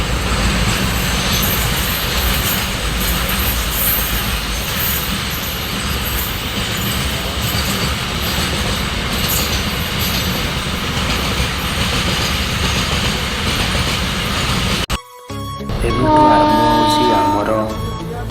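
A passenger train near Bhubaneswar rumbles past close by with steady clickety-clack of wheels and rail noise, then the sound cuts to a quieter interior with faint tones.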